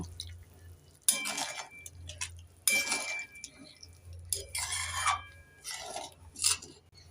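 A spoon stirs egg and cauliflower curry in a pan with warm water and salt added, making several short bursts of wet scraping and clinks separated by quiet pauses, with no talking.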